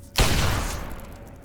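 A single loud gunshot in Fallout 3, inside Vault 92, bursts out sharply and trails into a long rumbling echo that slowly fades.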